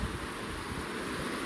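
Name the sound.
waterfall flowing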